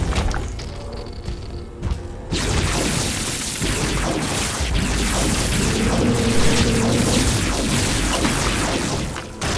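Bomb explosions in The Binding of Isaac: Repentance, a burst of booming, crashing game blasts that starts suddenly and continues as a dense, noisy rumble of thuds and impacts for several seconds.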